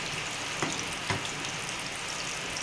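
Fish frying in a pan over a medium flame, a steady close sizzle with a couple of brief soft knocks, no voices.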